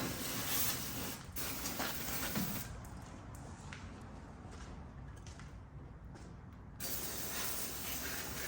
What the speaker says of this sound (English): Little brake clean action.